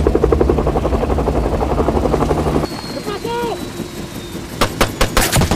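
Helicopter rotors thump loudly and rapidly in a film's beach scene, then drop away abruptly to a quieter backdrop with a voice, distant engine noise and sharp gunshot-like cracks near the end.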